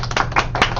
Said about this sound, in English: So if we were clapping, how would we do that?